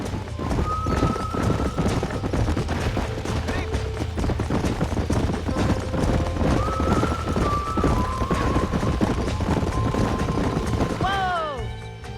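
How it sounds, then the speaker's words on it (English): Horses gallop with steady, continuous hoofbeats and repeated neighs and whinnies in the Red Dead Redemption video game, loud and close throughout, with a sharp whinny near the end. "These are fine horses."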